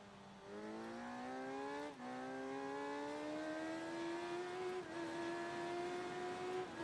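A Suzuki motorcycle engine in the game Ride 3 winds up through the gears, pitch rising in long climbs with brief dips at shifts, loud and continuous with no voices.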